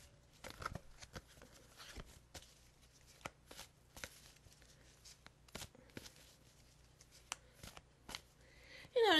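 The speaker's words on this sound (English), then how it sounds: "So I'm going to shuffle." Angel tarot cards are shuffled by hand indoors, giving a quiet, close run of soft rustles and irregular crisp snaps over several seconds, ending in a brief louder burst.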